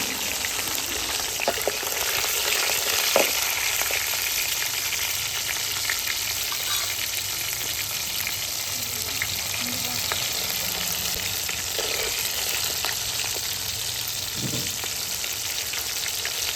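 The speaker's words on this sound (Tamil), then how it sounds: "உரிச்சு வச்ச சின்ன வெங்காயத்தை அதில் போட்டு நல்லா வதக்கிட்டுக்கலாம்" Peeled small shallots sauté in hot oil for an anchovy fish curry, giving a steady, dense crackling sizzle throughout, with occasional faint stirring taps.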